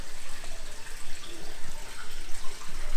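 Liquid water conditioner pours into a home fish tank fed by a hose, a close, continuous splashing and trickling with slight surges, heard alone without talk.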